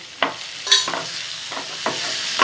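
Chopped tomatoes stirred through a hot kadai while cooking down for North Indian kadai paneer, with several distinct scraping strokes over a steady low sizzle, close and moderately loud.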